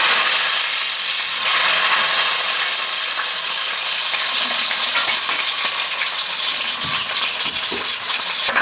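Mustard seeds, shallots and garlic fry in hot oil with a loud, steady broadband crackle and sizzle, brief popping spikes and occasional metal scrapes near the end, no voices.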